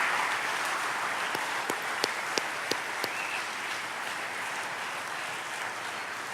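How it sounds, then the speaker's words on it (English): Applause at a sheriff's office awards ceremony honouring Communication Officers of the Month: sustained, moderately distant crowd clapping with a few sharper individual claps standing out, no talking. "Let's extend a round of applause for our Communication Officers of the Month"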